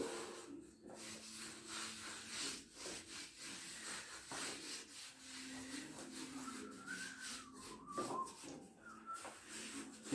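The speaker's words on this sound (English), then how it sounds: "Just rub it into the dough." Hands rub fat into cinnamon bun dough, producing a soft continuous rasping and scrubbing in repeated strokes, close and fairly quiet.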